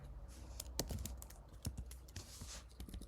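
Rapid computer keyboard typing of an Excel formula, a run of light plastic key clicks at an uneven pace with a few heavier strokes, fairly close and quiet.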